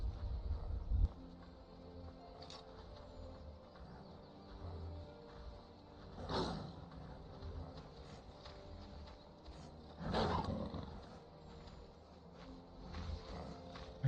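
A dog companion in the video game Skyrim growls in two low rumbling bursts, a few seconds apart, over steady in-game ambience.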